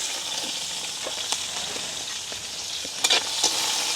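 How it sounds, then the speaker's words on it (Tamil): Onions and green chillies sauté in a pan with a continuous bright sizzle, broken by a few light stirring scrapes and taps near the end, close and with no voices. "அப்படியே வடிவாக பிரட்டி விடுவோம் வெங்காயம் பச்சை மிளகா கொஞ்சம் பதம் கட்டுக்கும்"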